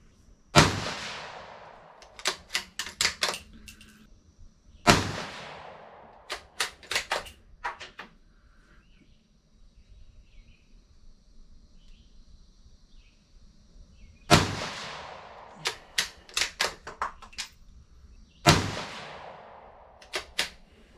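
.17 HMR rimfire rifle shots fired outdoors at 50 and 100 yards with a dirty barrel: four sharp, loud cracks spaced several seconds apart, each trailing a quick decay, separated by quieter stretches of clicks and handling.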